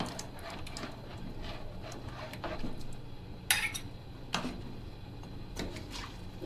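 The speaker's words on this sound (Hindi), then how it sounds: "अब हम आटे के लिक्विड को आहिस्ता आहिस्ता इसके अंदर शामिल करेंगे और चमचा चलाते रहेंगे मुस्तकिल" A spoon stirs flour liquid into nalli nihari in a cooking pot. It gives scattered light metallic clinks and scrapes, with one sharper clatter midway, over a steady low background.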